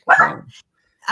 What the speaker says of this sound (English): I am so sorry about my dog.